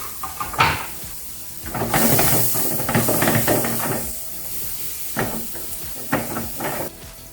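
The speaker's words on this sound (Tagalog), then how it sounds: "Kumukulo na ang ating water." Steady hiss of water boiling in a pot for penne pasta, with bursts of bubbling and clattering kitchen noises, moderately loud and close, no talking.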